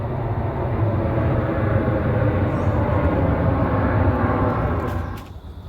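An airplane passes overhead above dense forest at a fishing spot, a steady broad roar filling the air for several seconds before fading away at the end.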